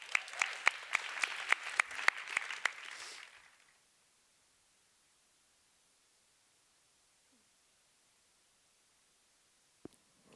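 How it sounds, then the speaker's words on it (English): A short burst of audience applause at an investment summit, dense clapping for about three seconds that stops abruptly, followed by near silence with a faint knock near the end. "A big applause for Anna."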